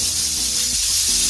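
A pressure cooker cooking jeerakasala rice for kuska vents steam with a loud, steady, continuous hiss that runs unbroken for over a second.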